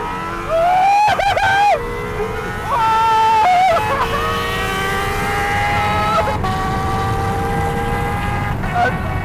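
A Honda NSX car and a Honda CBR1000RR Fireblade motorcycle accelerate hard in a drag race, loud close engine howls climbing in pitch with repeated gear changes, one engine screaming above the other, and a voice speaking briefly partway through.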